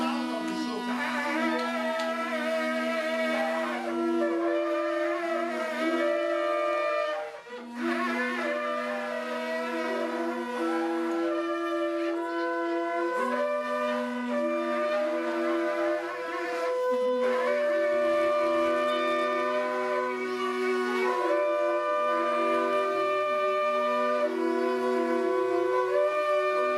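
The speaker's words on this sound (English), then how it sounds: "That's the sound of the shofar." A shofar sounds during a church prayer service, sending out long, sustained blasts that shift between pitches with only brief breaks, loud and continuous with no talking over it.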